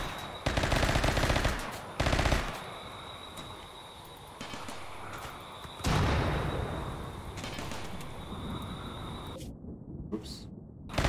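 Gunfire from colonists in the Rimworld video game, with loud broadband bursts and rattling volleys that rise and fall across the stretch, mixed with a constant mid-level ambience and a brief quiet gap near the end.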